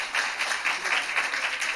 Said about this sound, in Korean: 다시 큰 박수 주십시오.